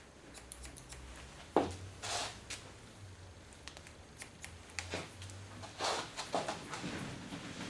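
Scissors snipping hair over a comb during a short men's haircut at a salon, a string of crisp metallic cuts in small bursts with pauses between, close and moderately loud.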